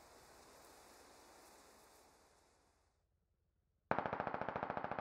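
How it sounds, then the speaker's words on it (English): SquadOps gunfire in a hillside firefight: a continuous rapid burst of shots fades out into near silence, then a much louder rapid-fire burst of evenly spaced shots bursts in close. "Looks like Cap Morgan's crew is taking some shots from uphill"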